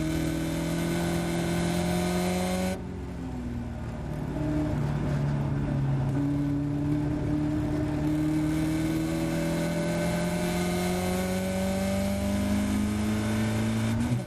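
Caterham race car lapping the Silverstone Grand Prix circuit, its engine droning loud and close with pitch sweeping up through the gears as it accelerates, alongside another car's engine note, continuous throughout and with no speech.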